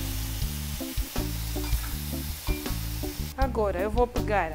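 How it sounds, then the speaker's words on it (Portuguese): Bacon fries with grated onion in a pan, giving a loud, continuous crackling sizzle close up, joined near the end by a person speaking over it. "Eu vou fritar o bacon. Vou colocar a cebola ralada."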